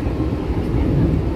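A train rolls past a railway wagon depot, heard from on board as a steady, loud low rumble of wheels and carriage noise with no clear breaks.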